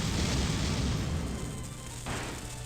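A golem cannon fires in the Disgaea: Hour of Darkness video game, giving a loud, sustained low rumbling boom that fills the clip, with a second blast-like swell near the end.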